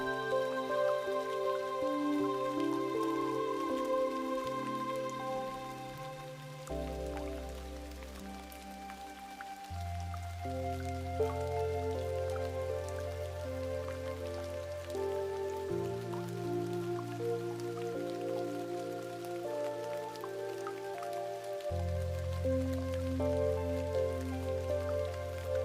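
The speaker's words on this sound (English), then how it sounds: "Let the rain cleanse you." Steady, even rain patters softly and continuously beneath sustained, slowly changing ambient synth chords, with no voice.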